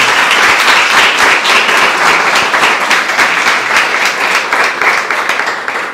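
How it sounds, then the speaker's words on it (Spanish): Loud, dense applause from a church congregation at Sunday Mass welcoming the priest, steady sustained clapping throughout with no talk over it. "un aplauso al padre. Bienvenida."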